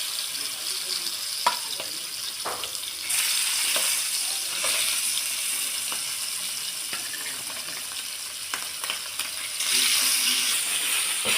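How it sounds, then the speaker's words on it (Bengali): Hilsa fish fry in a pan with an uneven sizzle, broken by scattered clicks and clatters from the cooking, moderately loud for the whole stretch. "মাছগুলো দিয়ে দিচ্ছি"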